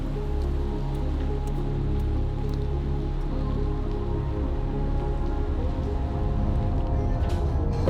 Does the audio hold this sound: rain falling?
yes